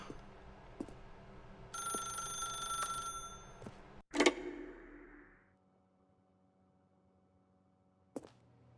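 An old-style telephone bell rings in The Stanley Parable, a bright metallic trill lasting about a second, followed by a sharp handset clatter as it is picked up, then near silence and one more brief click.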